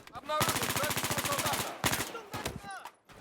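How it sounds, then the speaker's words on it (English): A German MG42 machine gun fires a long rapid burst in Battlefield V, a dense rattling stream of shots, then a shorter burst follows after a brief pause, with faint voice-like sounds at the edges. "if you've never heard of the MG42 before, well, I'm kind of surprised because it's probably the most famous German machine gun of the Second World War"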